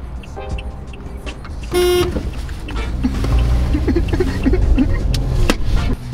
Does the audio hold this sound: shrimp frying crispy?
no